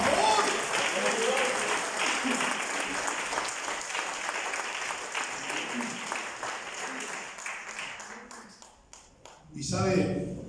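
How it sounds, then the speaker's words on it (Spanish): A church congregation claps and cheers for Christ, a dense sustained round of applause that gradually thins and tapers off, followed by a brief burst of sound at the end. "Un aplauso a Cristo."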